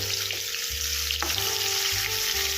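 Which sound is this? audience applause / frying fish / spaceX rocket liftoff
frying fish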